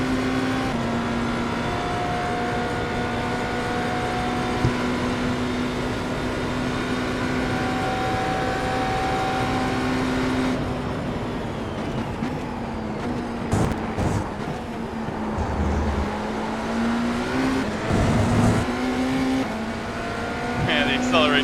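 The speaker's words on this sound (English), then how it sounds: "Man, the acceleration of that Porsche is so solid in low speed" A Porsche race car in the iRacing sim growls through a steady engine drone with gear-change dips and rising pitch as it accelerates, while people talk over it throughout.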